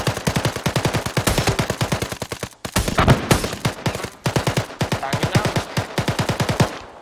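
Sustained automatic machine gun fire in the military video game ArmA during a beach battle, loud and close, in rapid rhythmic bursts with a brief pause near the middle before firing resumes.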